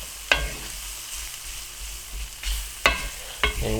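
Flour cooking down for gravy in a Lodge cast iron skillet, a soft sizzle broken by a few sharp scraping stirs of a utensil against the iron.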